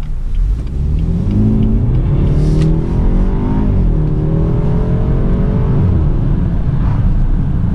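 A BMW 3 Series Gran Turismo engine revs and accelerates steadily on a backcountry road, its pitch climbing through gear changes, loud and close throughout with no talking.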